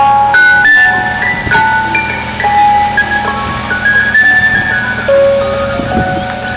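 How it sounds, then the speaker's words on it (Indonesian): Tinny electronic ice cream truck jingle from a toy van, a bright looping melody of steady beeping notes played up close and fairly loud, with no talking over it. "Di sini ada mobil es krim."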